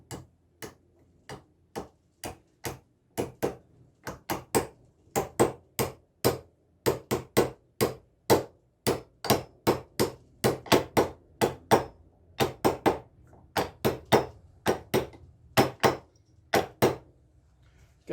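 A hammer taps a bearing race into place on a mandrel, with dozens of sharp, close metallic knocks in an uneven but steady rhythm and no talk.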